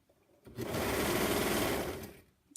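A sewing machine stitches a pajama neckband in one steady, loud burst lasting nearly two seconds, with a rapid even needle rhythm and quiet room tone before and after.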